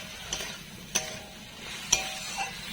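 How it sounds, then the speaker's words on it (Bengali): Potato and kohlrabi pieces are stirred through masala in a pan, with a soft, low background sizzle and a few distinct spoon clinks and scrapes spaced apart. "এবার আলু আর ওলকপিটা মশলায় দিয়ে দেবো। দিয়ে ভালো করে কষিয়ে নেব।"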